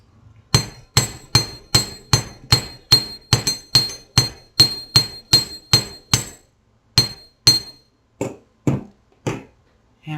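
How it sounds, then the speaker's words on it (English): A small hammer taps the curved metal wire frame of an earring in a steady, evenly spaced series of sharp strikes, about twenty blows, slowing and softening toward the end. "Hammer your curve."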